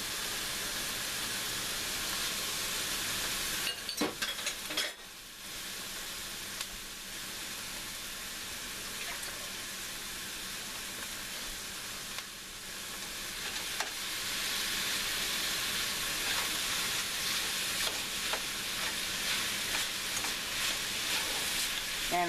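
Hamburger and sausage browning with onions in a pan for a tamale pie, a continuous hissing sizzle with a few clattering stirs partway through that grows slightly louder toward the end.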